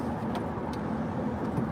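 A car passes on a road as a moderate steady roadway rumble, with a few brief higher hisses across the short stretch.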